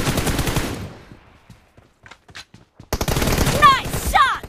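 Rapid bursts of automatic gunfire from a multiplayer shooter game's team deathmatch round, loud and close, breaking off into sparse shots before resuming, with players talking over the action.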